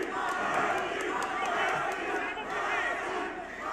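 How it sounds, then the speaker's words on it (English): Crowd at an amateur fight event yelling and cheering, a continuous roar of many voices with scattered sharp claps and shouts, moderately distant. "And now you can hear the crowd getting into it."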